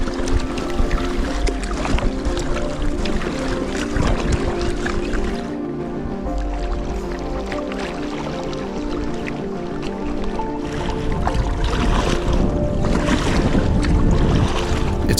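Steady water sloshing and dripping from kayak paddle strokes in a canyon in Wyoming, close by and fairly loud, with splashes continuing throughout.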